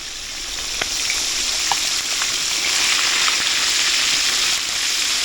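Blue marlin fish frying in a pan with oil, a steady broadband sizzle with scattered small pops and crackles, close and continuous without any voices.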